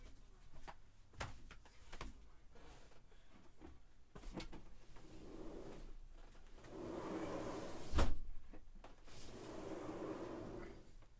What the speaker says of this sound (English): I'm going to have to shut the door.